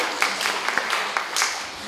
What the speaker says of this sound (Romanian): Să-i aplaudăm încă o dată